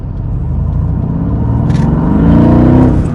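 Car engine revving up as the driver accelerates, a steady close rumble that swells and rises in pitch toward the end of the short stretch.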